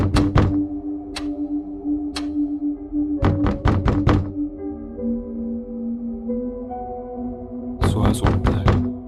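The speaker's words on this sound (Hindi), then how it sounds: "कोई तो ऐसा है जो लगातार दरवाजा खटखटा रहा है।" Repeated knocking on a door late at night in an animated horror story: several short sharp raps and quick clustered volleys, loud and close, over a steady eerie musical drone.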